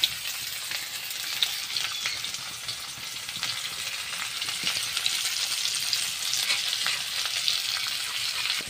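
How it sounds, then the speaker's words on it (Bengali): Chopped onion frying in hot oil, a steady close crackling sizzle throughout, with no talk over it. "কাটা পেঁয়াজটা আমি তেলের উপর দিয়ে দিলাম"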